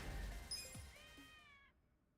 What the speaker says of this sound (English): I keep hearing a cat around here.